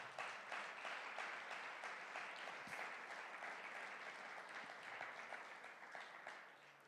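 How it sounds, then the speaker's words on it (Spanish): A church congregation applauds during a sermon, sustained even clapping from many hands, fairly distant and soft, fading slightly at the end. Nobody talks. "Denle un aplauso"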